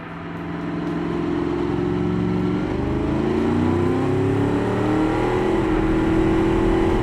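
A 1965 muscle car's engine roars loud and close as it laps a test track in the BeamNG driving game, holding a steady drone while its pitch climbs and shifts through gear changes with no talk.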